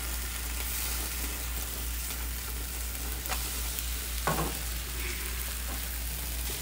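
Breakfast burrito filling of steak or sausage, egg, cheese and potato fries in a pan just after being flipped, a constant soft sizzle with a low hum beneath and a couple of faint utensil taps, no talk.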